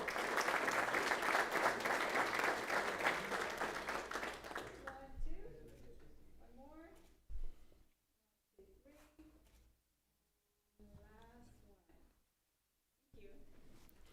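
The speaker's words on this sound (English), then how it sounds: "A round of applause for them" Applause for two high school coaches on stage at a school district board meeting, loud and dense for about five seconds, then fading into scattered claps and murmured talk with quiet gaps.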